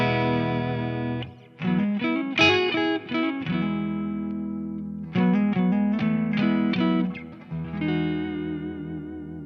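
Clean electric guitar chords and picked notes with humbucker pickups ring through an EVH 5150III Hypersonic amp with a touch of reverb, played in phrases with brief pauses between them.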